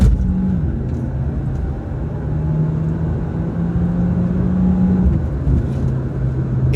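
A 2019 Volkswagen Golf 1.4 TSI R-Line with the Sound & Style Package accelerates hard on the Sepang circuit. The engine drones close and steady, its pitch climbing through the gears with brief dips at the shifts.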